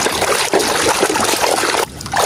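Running water rinses a yellow toy car during washing: a loud, close trickle and splash that carries on steadily and shifts briefly near the end.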